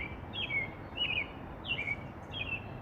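An American robin sings at evening: four short whistled phrases spaced evenly apart, moderately faint, over a steady background hiss.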